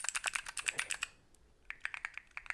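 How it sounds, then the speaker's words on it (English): A clicky mechanical keyboard switch fidget toy is pressed over and over, making crisp close-up clicks in a quick run, then a short pause, then another burst. "I got some clicky ones. They have clicky and soft, so let's do the clicky one."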